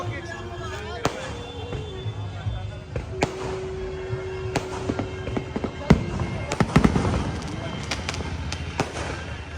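Colourful fireworks bursting over the Barsana temple during Radhashtami celebrations, a run of sharp cracks and pops with a brief whistle, set against a festive crowd murmur and a voice speaking.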